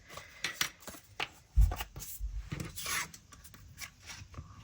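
Leftover masterboard pieces being cut into shape with scissors: a few close, crisp snips and rustling paper scrapes with short thumps, irregular and fairly quiet.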